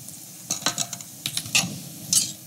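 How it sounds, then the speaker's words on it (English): A utensil stirs lemon juice into vegan lemon cake batter in a bowl, making a handful of short, wet scraping and clicking strokes in a quick, uneven rhythm, close and fairly soft, with no talking. "as you stir that lemon juice in, you're going to see that batter immediately start to bubble up"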